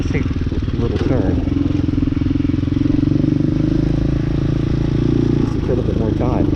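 A Hawk 250cc motorcycle engine hums steadily while being ridden, a loud close low drone with a rattly texture that holds even for several seconds as a rider talks over it.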